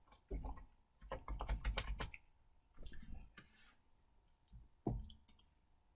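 Someone types on a computer keyboard while working in cloud accounting software, with scattered bursts of soft, quick key clicks separated by short pauses, fairly close and quiet.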